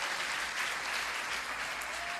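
A church congregation applauds together, a steady dense wash of clapping that holds evenly throughout without a break.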